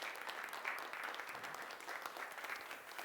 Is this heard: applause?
yes